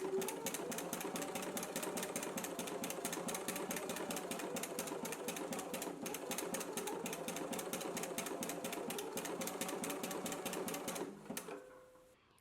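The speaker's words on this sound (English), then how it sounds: "I'm going to head to my sewing machine and go ahead and do some zigzag stitching along all the raw edges" Sewing machine zigzag stitching around the raw edges of a fabric appliqué, a fast steady needle rattle running close and loud without pause, stopping abruptly near the end.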